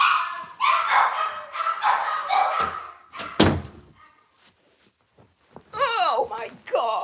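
Dogs howl and bark in a house, a howling stretch up front, then a door slam, a quiet gap and another wavering howl at the end, with a person talking.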